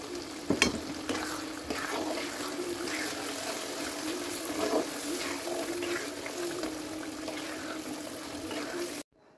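Green chili pickle with garlic cloves is stirred in a pan, a soft wet sizzle and bubbling with a sharp scrape near the start, then steady gentle stirring until it cuts off.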